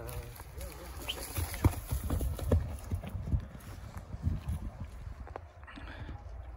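Horse hooves clopping in irregular bursts as a horse is run, with someone talking over the sound outdoors.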